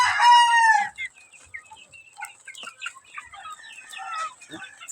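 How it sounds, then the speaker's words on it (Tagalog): Hungry backyard chickens on a range at feeding time: a loud, close rooster crow opens, followed by scattered clucks and chatter from the flock. "gutom na gutom yung ating mga alagang manok"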